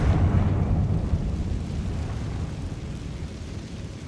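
A Confringo blasting spell explodes in the Hogwarts Legacy video game, with a loud, deep booming burst that rumbles and slowly fades over several seconds.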